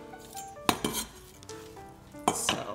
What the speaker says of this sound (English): I just got all these sliced up and start sauteing them.